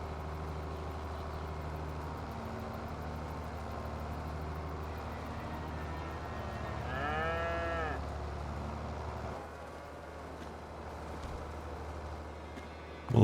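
Cattle in the Farming Simulator 22 game give a drawn-out, wavering moo in the middle, clear above a steady low engine-like hum that runs throughout.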